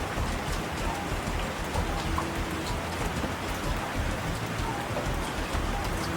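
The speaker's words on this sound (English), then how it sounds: "Loud rain." Heavy, steady rain in the game Primitive Society Simulator pours down in a dense, continuous hiss with a low rumbling undertone, constant throughout and with no voices.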